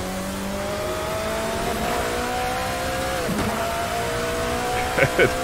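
A classic endurance race car engine in Assetto Corsa whines at high revs, shifting pitch as it accelerates, with a brief tire squeal near the end and steady road roar underneath.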